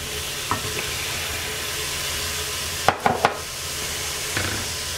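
Frozen home-garden bell peppers hiss steadily in a hot pan, with a few sharp knocks and scrapes as they are stirred, close and continuous, with no voices.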